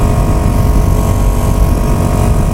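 A Honda CBR250R motorcycle engine runs steadily close by, a continuous low rumble with no clear revving, alone with no talk.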